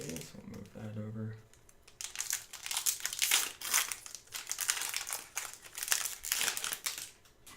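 A Ravnica Allegiance Mythic Edition booster pack wrapper being torn open and handled: close, crisp crinkling and crackling foil in rapid bursts, starting after a brief voice and continuing steadily.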